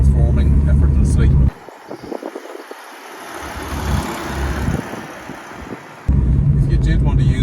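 A 1991 Ford Fiesta with 6000 miles and 33-year-old rear tyres drives gently, its engine a steady, moderate hum with road rumble. It plays alone in a quieter stretch between louder passages.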